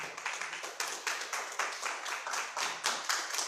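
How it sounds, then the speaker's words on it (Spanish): A church congregation claps during a Spanish-language worship service, with rhythmic bursts of many hands in a steady beat. The clapping is moderately distant and carries on without talk. "Denle un aplauso al Señor."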